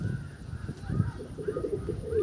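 Pigeons of the local Kalchira type coo in a loft, soft low throaty calls repeating over a couple of seconds close by.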